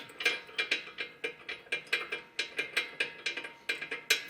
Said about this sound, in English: We're going to thread it into place and we're going to tighten it down.